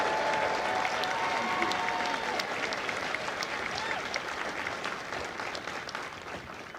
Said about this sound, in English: please join me in a well-deserved round of applause for the drill instructors and spouses and families